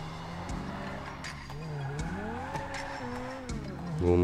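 Engine drone of a fast car in Grand Theft Auto V, rising and falling in pitch with gear changes and tyre squeal, steady and fairly loud with no voices.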